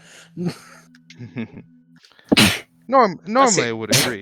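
A sharp, sudden sneeze bursts out in the middle of people talking, loud and close, during a tabletop Dungeons & Dragons session.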